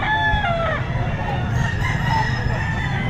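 Roosters at the Grotto pet market crow loudly and close, one long cock-a-doodle-doo then another overlapping call, over steady market noise and clucking with a little background talk.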